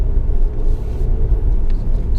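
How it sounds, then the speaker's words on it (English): A Fiat Tipo's diesel engine drones steadily while the car drives, a low continuous rumble with road noise and no talking over it. "as diesels go, I don't think this engine's too bad"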